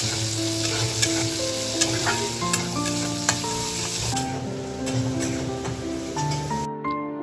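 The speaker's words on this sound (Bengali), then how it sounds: "জিরে গুঁড়ো, হলুদ গুঁড়ো দিয়ে মশলাটা ভালো করে কষিয়ে নেব" Ground cumin and turmeric spice paste is stirred and fried in hot oil for a fish and vegetable curry, a steady close sizzle with regular scraping strokes of the spoon, stopping abruptly at the end.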